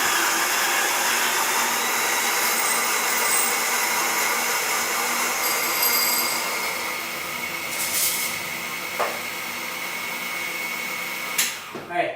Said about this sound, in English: Let me start grinding that.